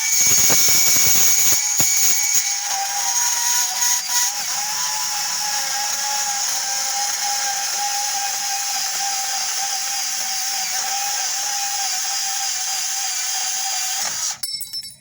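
A Milwaukee M12 Fuel brushless compact cordless band saw slowly cutting through steel Unistrut channel, a sustained high whine with a steady tone lasting several seconds after a brief start, close and loud, no talking.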